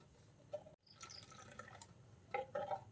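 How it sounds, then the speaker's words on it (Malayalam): More water poured into a Kerala-style fish curry gravy made with kalimeen, a short splashing trickle into the pan with brief gaps, close and fairly quiet. "കുറച്ചും കൂടി വെള്ളം ഒഴിച്ചു കൊടുക്കാം."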